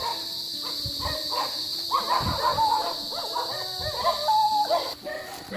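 A dog barks and whines a few times, fairly close, in a rainy rural Philippine setting, with a steady high insect drone running underneath.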